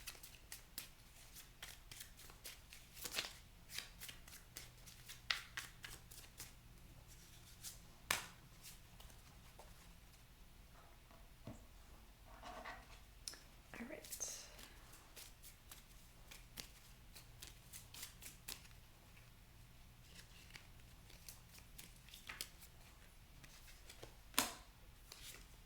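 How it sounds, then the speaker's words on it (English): Tarot cards are shuffled repeatedly, with soft riffles and sharp flicks scattered across a quiet background. "Doing one more shuffle here."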